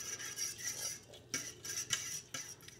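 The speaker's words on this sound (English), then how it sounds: "We're gonna give this a good stir." A spoon stirs a beef jerky marinade with chili flakes in a bowl, producing quiet, repeated scraping and clinking strokes in an irregular rhythm, close and alone.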